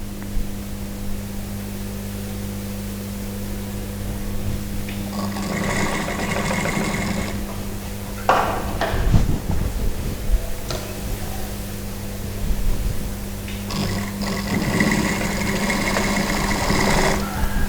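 A sewing machine stitches around a dress armhole in two bursts of rapid mechanical whirring over a steady electric hum, with brief clicks and adjustments in between.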